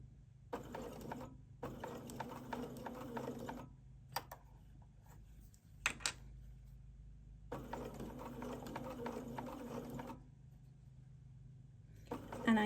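A sewing machine slowly stitching a knit fabric neckline runs in several sustained bursts of whirring mechanical hum, separated by short pauses with faint clicks, close and moderately loud.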